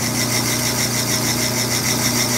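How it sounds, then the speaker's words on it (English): A drill press spinning an ordinary wire wheel to clean a valve from a Kohler/Onan flathead engine, giving a steady whirring motor hum with a continuous scratchy brushing texture, close and loud, with no talking. "What we have here is a drill press with a normal old wire wheel."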